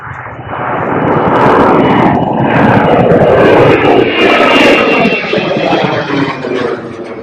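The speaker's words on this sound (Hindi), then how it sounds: "ये सामने फिर हवाई जहाज़ के फ़ज़ा में बुलंद होने का नज़ारा" A loud, steady roar of an airplane's engines taking off at Gravelly Point, swelling then slowly fading as the aircraft powers away, with no talking.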